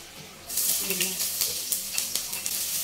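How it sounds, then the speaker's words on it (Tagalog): Garlic and onion sizzle hard in a hot pan for pastil filling, a loud bright frying hiss starting abruptly and continuing with light stirring clicks throughout, close up. "igisahin muna natin ang ating pang pastil. Yan. So, it's only a garlic and an onion."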